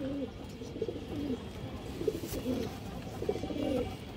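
A male Sabchila pigeon from an old bloodline coos in a repeated soft, rolling pattern of four or five phrases, fairly faint against a steady background hiss.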